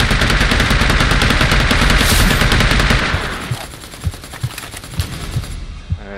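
Video game gunfire in Predator: Hunting Grounds: dense, rapid automatic fire rattles continuously for about three seconds, then thins into scattered single shots and short bursts with a few heavier booms.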